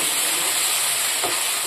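Spice tempering with poppy seed and cashew paste frying in hot oil gives a continuous bright hissing sizzle, close and steady through the brief moment, with no voices.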